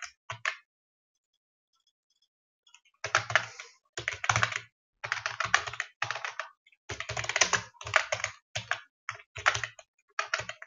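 Computer keyboard typing while Qt code is written, close and clear: a short burst of keystrokes, a pause of silence, then steady runs of rapid clicking clusters separated by brief gaps, with no voices.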